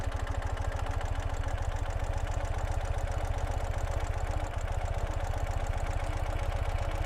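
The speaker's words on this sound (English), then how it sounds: "since Urals have a lot of torque, I should be able to take off without even touching the throttle" A 2018 Ural Gear Up sidecar motorcycle pulls away on engine torque alone, its boxer engine thumping in a steady, even low pulse close by with no voices.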